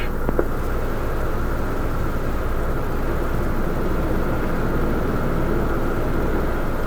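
A light aircraft flies on approach over Perth, Australia, its steady engine drone and broadband cabin roar filling the scene continuously and loudly without letup.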